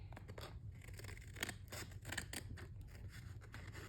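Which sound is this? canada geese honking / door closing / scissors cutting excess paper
scissors cutting excess paper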